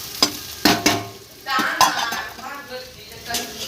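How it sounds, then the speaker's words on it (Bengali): Frying onions in a pan as marinated chicken meat goes in, with clattering spatula scrapes and clinks against the metal pan over a rising sizzle, close and fairly loud. "পেঁয়াজগুলো ভাজা ভাজা হয়ে গেছে এবার মেখে রাখা মাংসটা দিয়ে দেবো"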